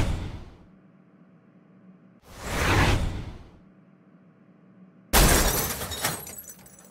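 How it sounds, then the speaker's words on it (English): A computer is smashed in a series of separate crashing impacts, two dull whooshing blows followed by a loud, bright burst of shattering glass and debris, with no voices. "I'm smashing your computer."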